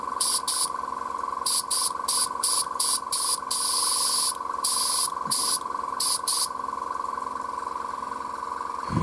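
An airbrush spraying paint onto sprue crystals in repeated short hissing bursts, each lasting under a second with brief gaps, over a steady humming compressor drone throughout.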